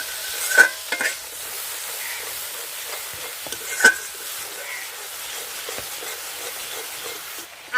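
Ground cumin, ginger and green chili paste sautés in a pan with a soft, steady sizzle, while a spatula stirs it with a few sharp scrapes and clicks spread across the stretch.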